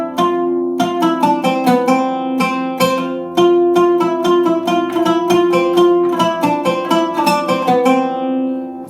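A plucked oud plays a flowing melodic line in maqam Ajam, notes struck in quick succession with a steady low drone, close and clear with no talking.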